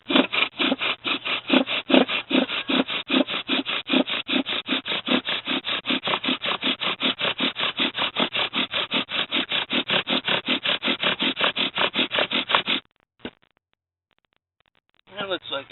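Steady back-and-forth rasp of a bow drill spinning a wooden spindle in a socket held with a knife, rubbing fast and loud for about thirteen seconds before stopping, with a few faint scrapes after a pause.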